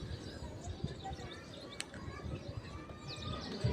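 Pigeons in a loft make faint, scattered chirps and soft calls against steady outdoor background noise, with a brief sharp flutter near the middle.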